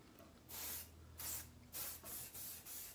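A perfume body spray hisses out in five short close bursts, each a sharp airy spritz separated by brief pauses.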